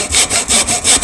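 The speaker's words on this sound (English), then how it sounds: "We get our tenon saw. Put down each side of the trench." Tenon saw cutting down the sides of a trench in a piece of wood clamped in a vise, heard as steady back-and-forth rasping strokes, about five close, loud strokes in quick rhythm with no talk.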